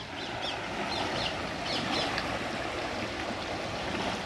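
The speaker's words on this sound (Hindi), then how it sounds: "पानी का बहाव इतना ऊपर" The Ganges in flood at Haridwar rushes past submerged ghat steps, a continuous broadband roar of flowing water, fairly soft and steady, with faint bird calls above it.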